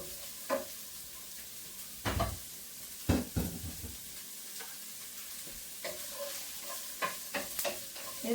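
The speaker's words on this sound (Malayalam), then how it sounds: "ഇത് വഴറ്റുവാണ്." Onion, green chili, curry leaves, ginger and garlic sautéing in a pan, with a soft steady sizzle and scattered stirring scrapes and knocks from a spoon, close and moderately quiet, with no talk.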